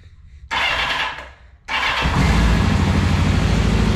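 A Kawasaki KZ650F motorcycle engine cranks briefly, pauses, then fires and catches into a loud, steady close-up idle with no talk.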